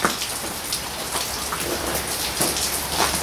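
Heavy rain pours steadily and loudly on a rural property during a rainy spell, a dense continuous hiss with scattered louder drop bursts and no voices.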